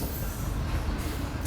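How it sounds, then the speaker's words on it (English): A freight intermodal train passes close by in a steady, loud rumble of rolling wheels and railcars, with no voices over it. "encourages a freight train to run through the background"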